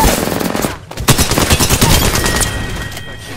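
Rapid gunfire from an Apex Legends battle royale match: loud, dense bursts of automatic weapons fire that roll almost continuously through the moment, with no voices heard.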